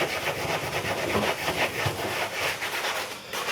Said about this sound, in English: So for that, we're going to use our brush.